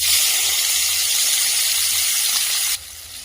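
Chopped onion hitting hot oil already tempered with dried red chilli and whole cumin gives a loud, continuous broadband sizzle that holds steady for several seconds, then abruptly drops to a softer hiss near the end.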